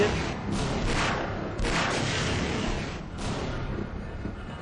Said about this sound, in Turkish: Oha roket Roket. Bir daha roket.